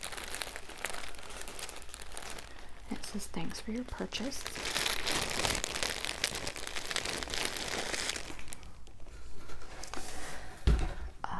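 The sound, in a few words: crinkling tissue paper from dress shop box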